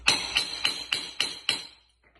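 Six quick, crisp hammer taps in an even rhythm, close up, tapping parts of a straight-cut planetary gear assembly into place, fading out after the last strike.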